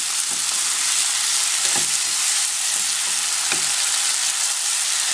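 Sardines and tomatoes sauté in a hot pan with a loud, constant sizzle, broken by several scraping stirs of a spatula at irregular intervals.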